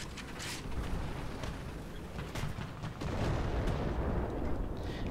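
Cannon fire from a Pz. II C tank in the War Thunder video game: booming bursts over a continuous rumbling battle din, loud and dense with no clear pauses.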